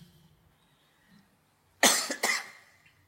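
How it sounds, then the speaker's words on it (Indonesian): A man coughs close by, a sharp double burst of coughs in a quiet room with nothing else around it. "Penyakitnya batuk."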